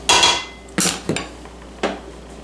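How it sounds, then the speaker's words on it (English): A spatula scrapes flour off the sides of a mixing bowl while donut dough is being made, giving four sharp, close scraping knocks against the bowl with quiet gaps between them. "I'll scrape the sides down a little bit again. Get all the flour off the sides."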